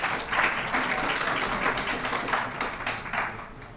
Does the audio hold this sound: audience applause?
yes